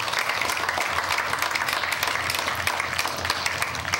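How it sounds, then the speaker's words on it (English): Steady, dense applause from a large audience at a birthday celebration, filling the whole stretch at an even, full loudness with no talk over it. "So now we can applause for all those great people."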